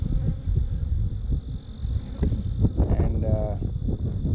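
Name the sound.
honey bees buzzing around beehive boxes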